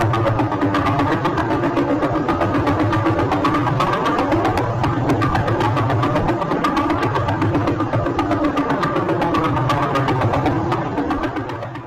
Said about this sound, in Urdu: ہمیں اس پلسر سٹار کی کچھ ایسی آوازیں سننے کو ملی جو آپ کے ہوش اڑا دے گی